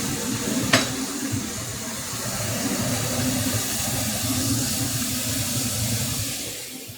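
Burgers go into a preheated pan and sizzle with a steady, hissing fry that holds for several seconds before tapering off, with a brief sharp crackle near the start and no talking.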